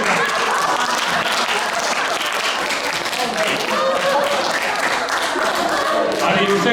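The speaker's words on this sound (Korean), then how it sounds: "박수하겠습니다." Loud, close applause from a congregation at a Bible recitation contest, with sharp individual claps and a few thumps over a busy crowd wash, and voices mingled throughout.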